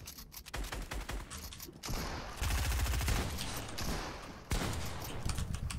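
Rapid Fortnite gunfire rattles in dense bursts of loud shots, with short pauses between volleys and a near, continuous barrage through the middle.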